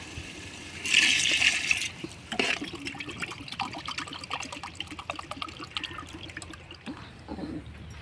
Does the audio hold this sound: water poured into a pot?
yes